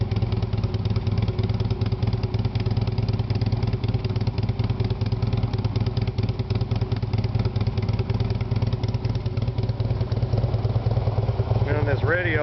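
A 2014 Harley-Davidson Street Glide FLHX engine idles with a loud, steady, rough throbbing rumble, unbroken throughout, with a faint warble near the end.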